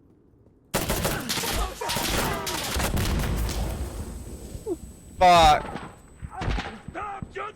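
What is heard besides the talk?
gunfire in video game Insurgency Sandstorm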